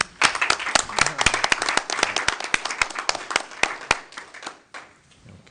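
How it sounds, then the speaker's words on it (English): A small group claps at a committee meeting, distinct sharp handclaps close by in irregular bursts that thin out and stop after about four seconds, leaving quiet room tone. "So I think that deserves a round of applause."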